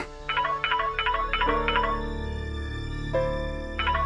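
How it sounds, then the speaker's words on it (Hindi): A phone rings with a bright electronic tone in repeated bursts, close by and fairly loud over a low steady hum. "Pick up the phone"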